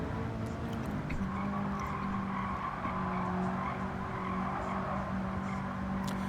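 A BMW i3 runs a lap in Gran Turismo 7, a steady electric motor whine under continuous tire and road noise with faint tire squeal, no voices.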